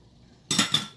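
A spoon mixing chana chaat with macaroni in a bowl, two quick scraping clinks of metal against the dish, close and clear after silence.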